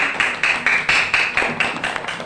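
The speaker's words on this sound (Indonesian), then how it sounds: "Jadi tepuk tangan dulu untuk penampilan kelompok 1." Classroom applause for a student group's presentation: clapping in uneven bursts of a handful of hands, near and moderately loud, with no talking over it.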